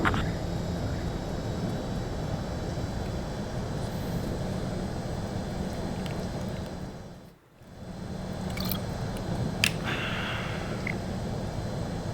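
A jet aircraft lands in Ace Combat 7, with a steady engine roar that drops away briefly in the middle and then returns to a constant drone.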